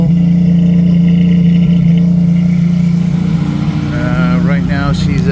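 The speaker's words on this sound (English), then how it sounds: "we're gonna let her run for a second and see if she'll kick down and idle" The carbureted 4.2L engine of a 1990 Jeep YJ with a 5-speed runs on choke at a fast idle. It makes a steady, close, droning hum throughout, with a faint higher warble near the end.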